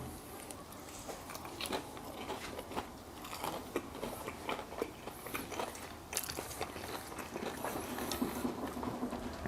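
Someone in a Turkish mukbang is eating cordon bleu and chicken balls. Close, wet bites and crunches come in an uneven rhythm of chewing, loud and right up near the microphone, with no talking.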